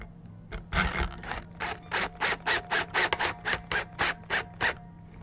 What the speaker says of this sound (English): Get some screws started.